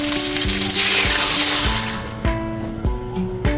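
Water poured into a pot of pork soup with tomatoes already simmering, a splashing, sizzling rush at first that settles into bubbling with a few soft knocks.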